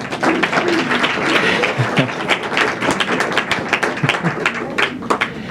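Audience applause after readings at a poetry tribute event, a dense steady wash of clapping from a room of listeners, moderately loud and continuous with a few sharper individual claps standing out.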